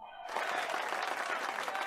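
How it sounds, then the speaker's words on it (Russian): A burst of crowd applause begins abruptly and continues as a dense, even wash of many hands clapping, played as a reward sound effect, moderately quiet. "это могут быть вот аплодисменты разные"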